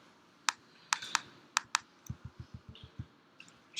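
Someone types on a computer keyboard at close range: a handful of sharp, irregular key clicks, then a quicker run of evenly spaced, heavier keystrokes, all alone in a quiet room.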